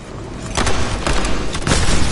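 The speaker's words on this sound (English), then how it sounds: "He treated the next guest with a hail of bullets." Rapid gunfire in the video game Nobody Wants To Die, a loud dense hail of shots and booming impacts pounding continuously without pause, close and harsh.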